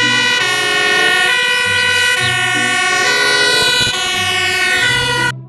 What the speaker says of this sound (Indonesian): Widih, ternyata mobil pemadam kebakaran.